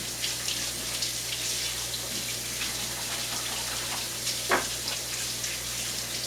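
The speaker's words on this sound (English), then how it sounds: "let me rinse my hands quickly" A kitchen faucet running steadily while hands are rinsed under it, giving a continuous close hiss of flowing water with small splashes and a brief knock partway through.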